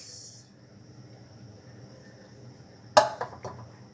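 Mussels dropped into a cooking pot for a Filipino tahong dish: a quiet simmering hiss, then a sudden clatter of shells knocking against metal with a few smaller follow-up clinks.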